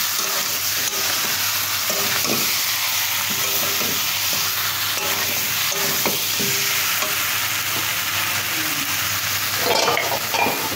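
Taro and Malabar spinach stir-fried with spices and salt in a pan: a steady, loud sizzle with repeated close scraping from the stirring spoon, and no voices.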